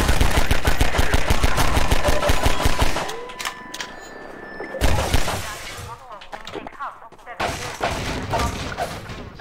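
Loud, rapid gunfire from Half-Life 2 fills the opening three seconds as dense, repeating bursts, then gives way to scattered shots, thuds and game effects with a voice talking over parts of it.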